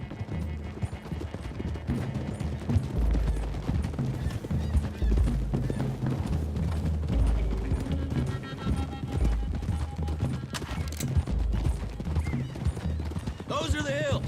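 Horses gallop in Red Dead Redemption 2, a continuous clatter of hooves with low thudding weight, joined by occasional gunshots and brief whinnies in a busy outdoor scene.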